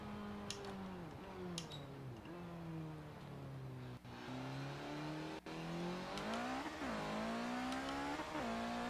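A car driven in the video game Forza Horizon 4 holds a loud, steady engine drone that rises and falls through gear changes and revs, with a few brief ticks and clicks over it and no talk.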